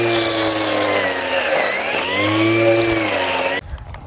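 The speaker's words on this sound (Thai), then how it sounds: "ที่ผมถืออยู่นี้ก็คือ เครื่องตัดหญ้าไร้สายของนากิตะขนาด 21 โวลต์นะ" A Nakita 21V cordless lawn mower, model LM-08-013, whirs loudly and steadily with a high motor whine, its pitch dipping briefly mid-run, then cutting off abruptly near the end.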